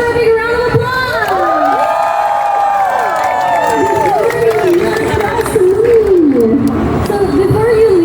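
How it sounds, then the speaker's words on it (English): Convention panel crowd at Otakufest 2025 in Cebu cheering and shouting for Dokibird, a loud sustained roar of many voices with excited whoops and some clapping, steady throughout. "Right, ladies and gentlemen, let's give her a big round of applause!"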